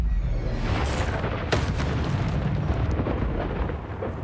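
A Confringo blasting curse explodes in Hogwarts Legacy, a deep booming blast with rumbling debris and a sharp crack partway through, loud and close over continuous low roar.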